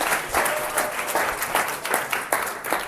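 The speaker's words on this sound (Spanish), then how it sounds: "Un aplauso para mi discípulo Tristan." Audience applauding at an economics lecture, a dense crowd clapping with some louder individual claps, steady throughout the short stretch.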